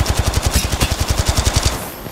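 Rapid automatic gunfire from a weapon in the battle-royale video game Apex Legends, a steady burst of evenly spaced loud shots lasting about two seconds before cutting off.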